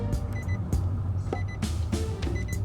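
A car's warning chime beeps repeatedly in short bursts during a driving test, sounding over a low steady engine and cabin hum.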